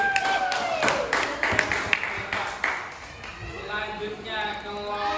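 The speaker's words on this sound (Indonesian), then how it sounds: "Tepuk tangan sekali lagi." Students in a classroom clap for a presenting group, a burst of scattered, uneven handclaps that thins out partway through, with children's voices and chatter audible throughout.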